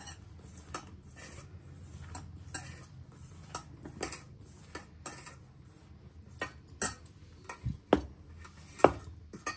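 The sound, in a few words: mixing mirchi bajji batter with salt in a bowl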